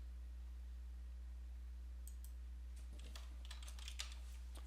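Keys tapped on a computer keyboard while entering text in a design program: faint, quick clicks in a short uneven run in the second half, over a steady low hum.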